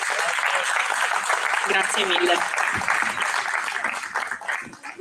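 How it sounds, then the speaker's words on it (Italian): Applause from an audience at a talk event at the Stràngius Festival 2022, a dense, steady patter of clapping that holds for several seconds and tapers near the end while a voice speaks over it. "Allora le ringraziamo con un applauso"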